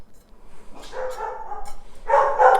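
A dog barks at a squirrel outdoors, a few sharp barks in two bursts, moderately close, with no talk over them.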